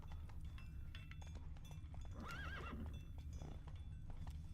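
Roach the horse in The Witcher 3 gallops with steady clip-clop hoofbeats throughout, letting out a clear rising-and-falling neigh midway over a constant low rumble of game ambience.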